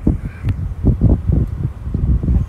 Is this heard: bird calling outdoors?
yes